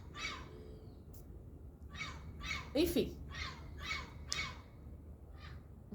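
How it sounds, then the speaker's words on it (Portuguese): A noisy bird nearby gives a run of harsh, repeated squawking calls in a steady rhythm while a person talks quietly underneath. "Tem um pássaro muito fofinho aqui, barulhento."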